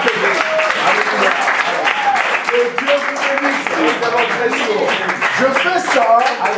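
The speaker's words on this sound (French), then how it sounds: "Can we clap again?" A church congregation claps and applauds together, a dense continuous round of clapping with crowd noise and a voice speaking over it.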